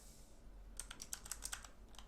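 Quiet keystrokes on a computer keyboard, a short irregular run of about eight clicks close by, faint over a low steady hum.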